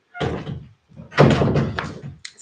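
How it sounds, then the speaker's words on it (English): A door pushed shut in a home, heard as a few loud, dull thuds and rattles close by in quick succession, with no talking. "Shut that door for me."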